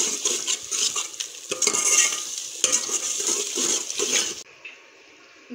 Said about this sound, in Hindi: मसाला अच्छी तरह से भून लिया है मैंने